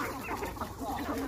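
Native desi country chickens on a ragi-fed farm cluck softly and continuously nearby in a brief burst of low, throaty calls.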